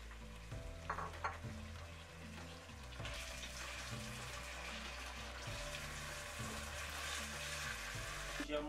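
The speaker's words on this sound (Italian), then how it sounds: "Aggiungiamo farina di mais, friggiamo circa 10 minuti." Peas sizzle steadily while frying in a pan during polenta cooking, a continuous close crackle with faint stirring and a low background hum, no voices.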